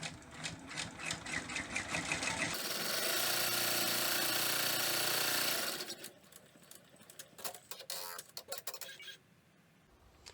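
An embroidery machine stitching the placement and tack-down lines of an appliqué witch's hat on a hand sanitizer case, a fast, loud rattling hum for a few seconds between quieter clicks and handling noises.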